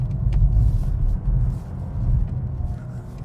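A BMW 218i Coupe's engine roars under full throttle, a deep close rumble that surges and eases in waves as the car accelerates.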